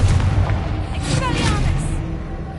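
A Confringo blasting spell exploding in Hogwarts Legacy, a loud, deep, rumbling boom with a sustained roaring tail amid game effects and background noise.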